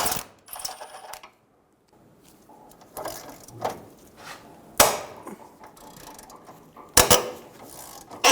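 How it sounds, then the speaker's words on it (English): A ratchet works on 10mm lower radiator support bolts of a 2000-2007 Ford Focus, giving scattered clicking bursts, sharp metallic clacks and pauses, close up with no talk. "We're going to remove the four 10mm bolts for the lower radiator support."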